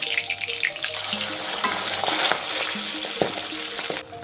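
Turned pabda fish sizzle in hot oil in a wok, a close, steady crackle broken by spattering pops and a couple of sharp utensil knocks, with no voices.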